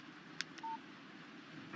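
A short electronic alert from a mobile phone in the video game Alan Wake, a quick click followed by a brief clean beep tone, faint against a quiet hum.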